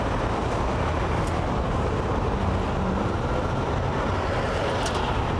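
Traffic at the IH10 and Huebner intersection starts moving, with a dense, steady low roadway rumble and engine noise throughout, a few faint higher squeaks, and no talking.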